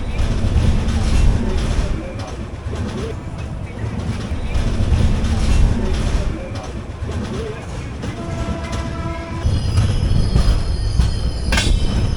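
A passenger train running from the Konkan coast to Mumbai rumbles loudly and continuously on the rails, heard from on board, with a high wheel squeal rising near the end.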